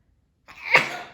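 A single short sneeze bursts out close by, with a brief breathy lead-in before it.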